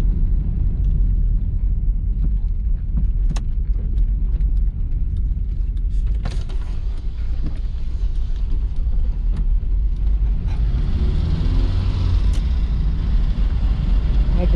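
A classic Volkswagen Quantum CL station wagon's engine rumbles steadily, heard from outside, deep and loud, with a brief rise in revs partway through and passing wind noise.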